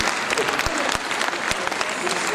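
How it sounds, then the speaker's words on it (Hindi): Dense applause from an audience welcoming the artist Kamna Nayak to the centre of a stage, steady and loud throughout with a few sharper individual claps standing out. "एक बार तालियों के साथ अभिनंदन करें।"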